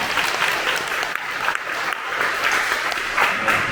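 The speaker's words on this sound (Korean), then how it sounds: "열띤 토의를 해주신 저희 사조원님들께 감사드리며 박수 한번 보내주십니다" Steady applause from a group of listeners thanking discussion team members during a group presentation on hospital administration, a dense even wash of clapping filling the room without pause.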